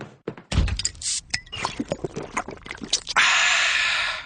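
A Coca-Cola is opened and handled: a sharp pop and crack followed by clinks and thumps, then a steady fizzing hiss of carbonation that fills the end.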